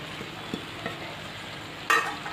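A spatula scrapes and stirs paneer bhurji in a hot pan, with a soft steady sizzle underneath and a few light knocks, then a louder scrape near the end; no voices.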